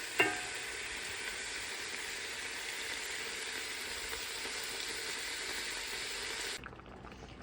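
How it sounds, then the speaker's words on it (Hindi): Chicken and vegetable spring roll filling fries in a pan with a steady, close sizzle that runs evenly and then cuts out abruptly near the end as the heat is switched off. "बस इस तरह थोड़ा सा भून लेंगे"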